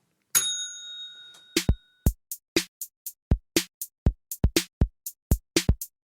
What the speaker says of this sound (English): Anyway, I'm going to ding the bell.